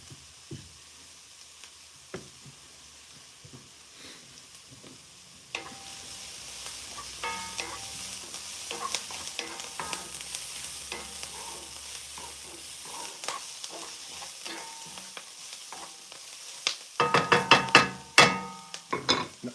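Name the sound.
onions and garlic frying in a pan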